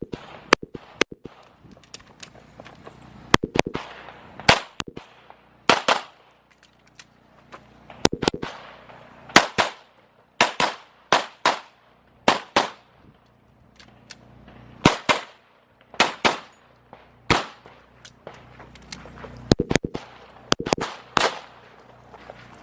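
Pistol gunshots ring out on a USPSA shooting competition stage at the South Carolina Sectional Championship. Sharp reports fire in quick pairs and bursts over about twenty seconds, separated by short pauses for movement.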